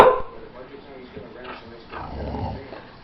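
A dog whimpers and lets out short yips and barks indoors, close by, in a mix of whining and brief barks while someone talks to it.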